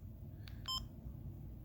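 Two short electronic beeps from a Pi-Star digital radio hotspot, the second a brief clear tone, over low background hum; quiet and close.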